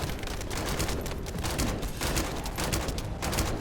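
Rapid gunfire from shooting an enemy in The First Descendant, a dense, continuous burst of shots with busy game effects filling the whole stretch at steady loudness.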